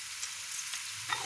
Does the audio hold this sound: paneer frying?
yes